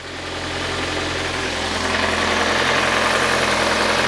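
Citroën Visa GTi engine idling nearby, a steady, loud mechanical hum with a constant low drone that swells slightly at the start and then holds even, no talking.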